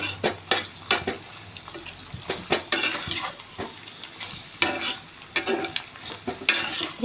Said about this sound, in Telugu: ఈ ఉల్లిపాయలు అనేది ఫ్రై అయ్యేటట్టు మనం ఫ్రై చేసుకుందామండి